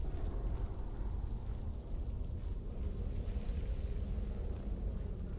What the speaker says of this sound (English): Mind the waterfall.